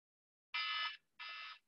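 A workout timer alarm during an outdoor boot camp sounds two steady electronic beeps, each about half a second long with a short gap between, clear and fairly close in otherwise quiet surroundings.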